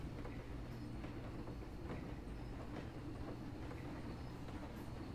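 Coaster train ride in the video game Planet Coaster, a continuous rumbling rail run with faint rhythmic clacks, even and steady throughout with no talk.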